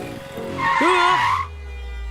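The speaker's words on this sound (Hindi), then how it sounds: "अरे रुको, गाड़ी आ रही है।" A car tire squeals briefly in a short skid on a city street, a rising whine over a low engine rumble that fades into a steady hum afterward.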